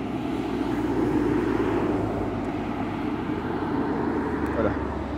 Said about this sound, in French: Il y a un peu des voitures, je vais laisser passer